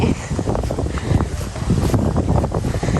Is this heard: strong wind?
yes